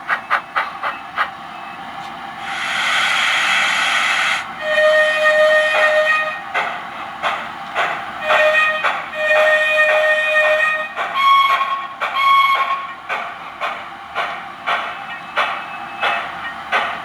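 An Econami DCC sound decoder in a model steam locomotive plays steam chuffs and hiss with a whistle sounded in several varied blasts, some long and some short, loud and close with no speech.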